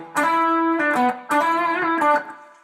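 Electric guitar played through a wah pedal and distortion, with two short bursts of sustained, gritty chords whose tone sweeps, each cut off by a brief gap, loud and with no voices.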